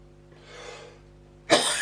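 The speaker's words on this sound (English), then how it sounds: "Sorry for coughing." A single sharp, loud cough bursts out near the microphone after a soft breath, recorded in a workshop where a vintage Ferguson tractor is being serviced.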